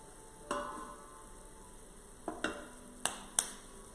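Carrots seasoned with Japanese 7 spice are stirred in a hot pan over a steady background sizzle, with a few sharp clicks and scrapes of the utensil against the pan, spaced irregularly.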